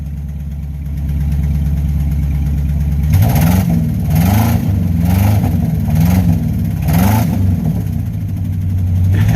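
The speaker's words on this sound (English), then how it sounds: "The skinny pedal. Give it a couple revs." A plow truck engine idles low and steady, then gets revved hard about four times in a row, each rev climbing and falling back before settling to a louder idle.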